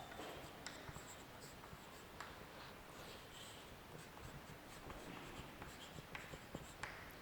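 Writing on a board during a chemistry lesson: steady soft scratching strokes with occasional taps, quiet and close, continuing throughout with no talking.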